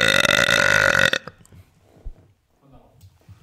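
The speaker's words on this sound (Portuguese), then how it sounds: "Foi por causa do arroto dele?" A loud, long, close burp fills the first second, followed by quieter bits of talking and shuffling.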